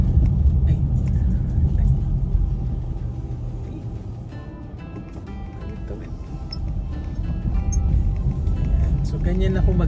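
A car cruises along a road past an apartment area, its low engine and tyre rumble steady throughout while someone talks over it.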